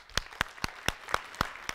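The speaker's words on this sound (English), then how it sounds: "Can I just get everybody to start clapping?" A church congregation claps in unison, sharp evenly spaced claps about four times a second, moderately loud with a slight roomy tail and no talking over them.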